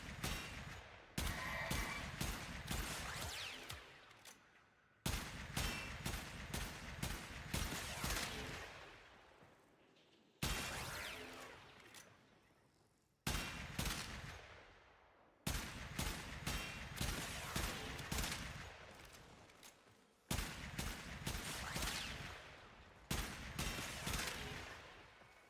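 A regular 9mm pistol fires in the video game Warframe, heard as about six loud bursts of rapid shots in quick succession, each lasting a few seconds and separated by short pauses, with no talking.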